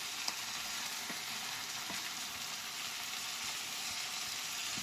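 Sardines frying in a pan, a steady close sizzle with faint occasional pops and light stirring clicks, quiet and continuous, with no voices.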